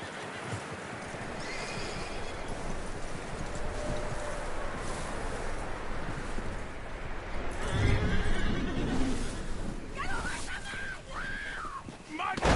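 A horse whinnies in the video game Red Dead Redemption 2 amid busy background sound, with hooves clopping and people talking over it.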